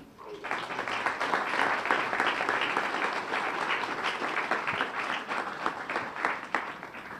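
A large audience at a groundbreaking ceremony applauds Cardinal Seán O'Malley, a dense, steady wash of clapping that builds quickly and holds at an even level for several seconds.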